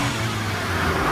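Chrysler 300C accelerating on a track, a steady loud engine roar climbing gradually as the throttle opens, heard close and continuous with no talking.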